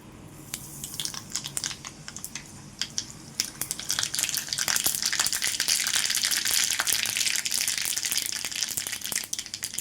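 Mustard seeds tossed into hot oil for tempering a chutney crackle and pop in dense sharp bursts, building to a loud, continuous spattering sizzle with no one talking.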